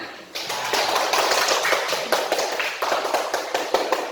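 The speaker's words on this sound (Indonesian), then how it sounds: "Tepuk tangan." A classroom of students claps hands together in a short burst of rhythmic, slightly uneven claps, close and fairly loud, lasting about four seconds.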